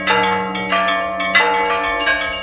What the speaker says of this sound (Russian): В унисон будет раздаваться пасхальный звон.